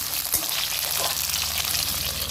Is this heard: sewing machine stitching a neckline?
no